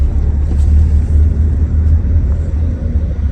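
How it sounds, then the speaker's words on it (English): Heavy night traffic in Manama, Bahrain, a dense low rumble of many cars heard from inside a moving vehicle, steady and close with faint higher road noise. "It's a lot of cars out tonight"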